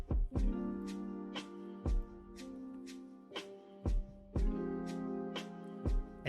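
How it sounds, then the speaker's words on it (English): MIDI keyboard notes struck one after another at an uneven pace, each a sharp attack with a ringing tone that sustains and fades, playing alone. "I plug in my MIDI keyboard and played some notes"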